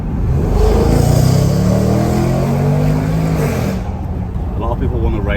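A Jaguar SVR's engine roars loudly and steadily while driving, rising and holding in pitch with strong low rumble for several seconds before easing off.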